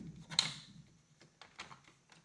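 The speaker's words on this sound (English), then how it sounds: "the first thing I'm doing here is, number one, Philips Posidrive rather, is to lift the keyboard up" Keyboard of an HP 85 computer being pried and lifted up during repair, a short creak followed by a few small plastic clicks and rattles, close and quiet.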